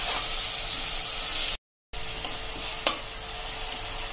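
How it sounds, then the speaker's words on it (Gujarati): Tomato puree and masala paste fry in a pan with a steady, dense sizzle and hiss, broken by a brief silent gap and followed by a soft stirring scrape. "જેવું મીઠું નાખી દેશું એટલે આપણી પેસ્ટ ઝડપથી સંકળાઈ જાય."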